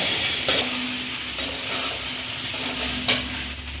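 Potato bhaji is stirred in a pot with three distinct scraping strokes over a steady background sizzle of frying.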